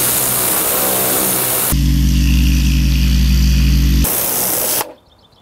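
A Kärcher K3 pressure washer with a dirt blaster nozzle runs loudly and close, its motor note shifting partway through before cutting off abruptly near the end.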